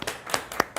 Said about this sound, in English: Clap if you're next to somebody beautiful.